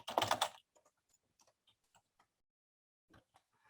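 Typing on a computer keyboard: a short louder burst of clatter at the start, then sparse, faint single keystrokes ticking at irregular intervals in an otherwise quiet room.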